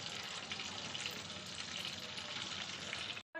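Egg chicken chops frying in oil, a dense, even hiss of bubbling oil that carries on steadily without pause until a brief dropout at the end.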